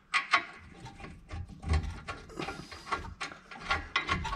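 A hand ratchet clicks in short rapid bursts while tightening the bottom bolt of a brake caliper on a Honda Ridgeline, close and crisp with brief pauses between strokes.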